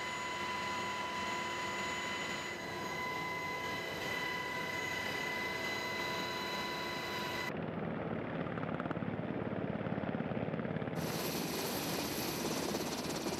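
A military rescue helicopter flies with a continuous, loud rotor and engine roar that fills the whole stretch, steady and close, with no speech.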